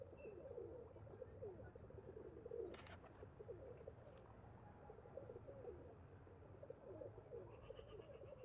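Pigeon cooing in the video game Nancy Drew: Phantom of Venice, soft repeated coos over a steady ambient game background, with a brief brighter chirp partway through; no talking.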